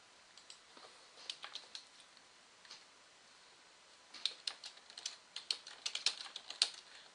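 Fingers tapping numbers into a calculator keypad, a string of quick, light clicks in two bursts with a pause between, faint and close with no talk.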